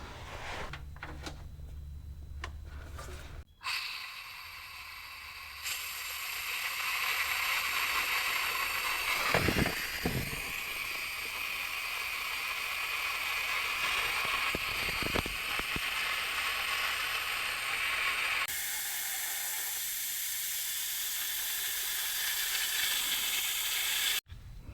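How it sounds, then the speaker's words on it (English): VEVOR 15-liter fluid extractor vacuum pulling oil through a hose from a car's fill plug, a steady hissing, gurgling suction with faint mechanical clicking that runs continuously for the whole stretch, then shifts slightly in tone near the end. "Once that comes out, I can stick my vacuum hose in."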